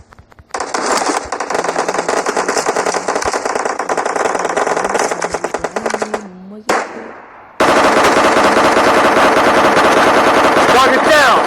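Rapid bursts of automatic gunfire in a squad shooter video game, loud and nearly continuous, with a brief lull before another dense stretch of shots.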